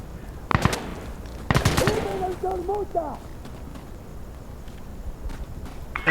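Gunfire in Insurgency Sandstorm PvP: two sharp bursts of shots ring out at moderate distance with footsteps between them, and a voice talks.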